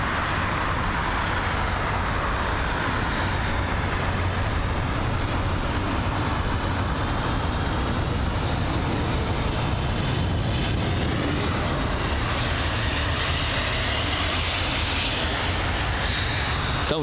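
A Eurowings Airbus A319 arriving from Hamburg at London Heathrow sends a loud, continuous jet roar across the whole stretch, a broad steady rumble without pause.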